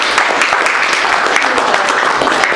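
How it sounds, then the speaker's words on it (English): Audience applause at a MomForce event in Arizona, a steady dense wash of clapping from a crowd welcoming a speaker to the front, with some voices mixed in underneath. "Everybody give Ida a big round of applause"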